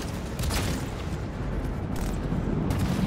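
Explosion in Cyberpunk 2077 during a president escort mission: a dense, sustained rumbling roar with low boom and crackling debris, loud and continuous for about three seconds.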